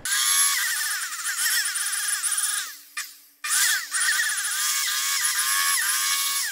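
A handheld air blower blasting dust out of a desktop PC, a loud steady high-pitched whine that dips and cuts out briefly midway before resuming at full strength, with no talking.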